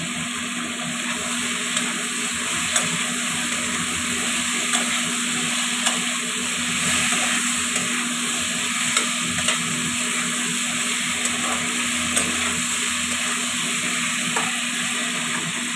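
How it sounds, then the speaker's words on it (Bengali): Kohlrabi, potato and softened tomato frying in a pan, a steady loud sizzle with occasional stirring scrapes, continuous and close. "ভাজা হতে থাক।"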